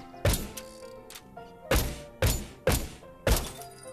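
Revolver shots from a video game shooting range fire as five loud, sharp thuds at irregular intervals, each ending in a short decay.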